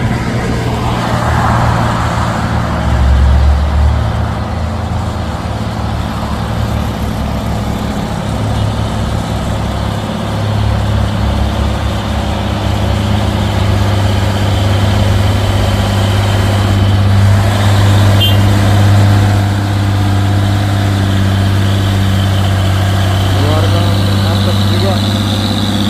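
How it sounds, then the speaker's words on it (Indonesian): A heavily loaded Hino truck's engine drones low and steady at close range on a hilly road, rumbling throughout while someone talks over it. "satu nitro Hino yang bermuatan berat bosku"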